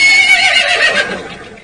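A cry from Zonoan Ponyta, the water- and flying-type horse Pokémon in the game Pokémon Teal: a single loud, whinnying neigh with a bright, wavering pitch that trails off over under two seconds.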